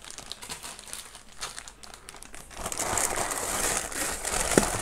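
Plastic bags crinkle and rustle nearby as a delivery is unpacked, starting as sparse handling crackles and then swelling into a denser, louder burst of crinkling toward the end.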